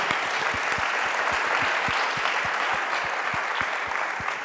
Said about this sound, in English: a final round of applause for the teams presenting today